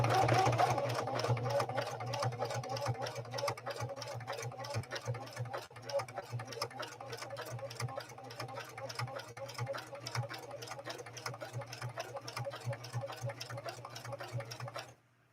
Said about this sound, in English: Just slow the machine down and give it a little bit more time to react.